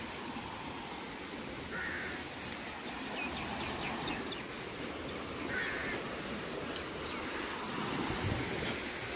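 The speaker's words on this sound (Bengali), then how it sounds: "আমাদের সমুদ্রের ধারে বিচে" Steady wash of sea surf rolling on a beach at Mousuni Island, continuous and fairly distant, with a few faint bird calls above it.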